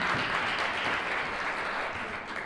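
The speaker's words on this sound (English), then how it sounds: "So please give him a round of applause as he comes up" A community mentoring summit audience applauds, a dense, steady wash of clapping that stays loud and fades slightly toward the end.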